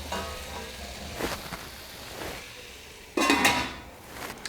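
Carrots and spinach sizzle softly in a pan while a utensil scrapes and clinks a few times, one louder stir near the end, no talking.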